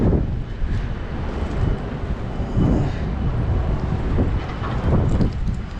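Strong wind buffets the microphone with low rumbling gusts, while water slaps and splashes in irregular surges close by.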